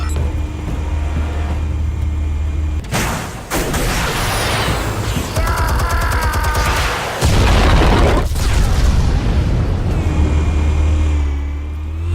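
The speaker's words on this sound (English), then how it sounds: "Explosives armed. Fire when ready." Armed explosives going off in the Batman Telltale video game, heavy booms and rumbling bursts layered over a constant low drone, with a big blast near the middle and scattered crackling debris around it.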